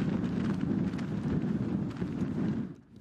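Strong hurricane-force wind sweeps across the open steppe near front-line positions, a loud continuous rushing roar buffeting the microphone that eases off near the end.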